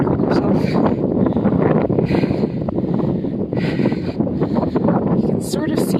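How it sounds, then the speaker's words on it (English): Strong wind buffets the microphone in a constant low roar in Mosfellsbær, Iceland, with brief gusts rising and falling throughout. "Oh, windy."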